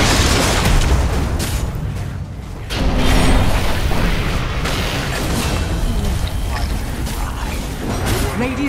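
Loud rumbling explosions and crumbling debris as a tower falls in the Dota 2 game, dense booms and crashes layered over continuous battle noise throughout.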